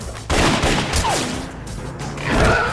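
Gunfire aimed at zombies in the arcade shooter House of the Dead 2, with a few quick shots over game sound effects and a short tonal sweep, fairly faint.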